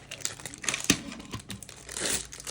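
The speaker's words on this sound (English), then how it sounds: "Open the launching tin." Beyblade X launcher tin packaging being opened by hand, with dense crinkling and crackling plastic and a sharper snap or tear near the middle, close and moderately loud.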